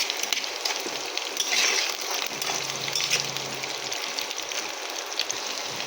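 Potatoes sizzling in hot oil in a pan for a fish-head curry with yardlong beans, a steady crackling hiss with soft scraping as they are stirred.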